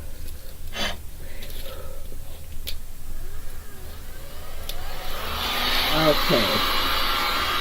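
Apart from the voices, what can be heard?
heat gun blowing on resin pour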